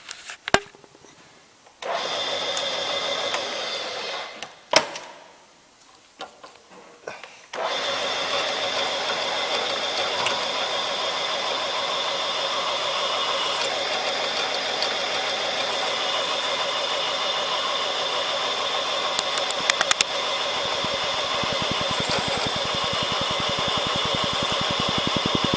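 Holes are drilled into metal for a Cub Cadet 1650 four-wheel-drive tractor build: a steady power-tool whine runs continuously after a few short starts and pauses, with faint clicks near the end.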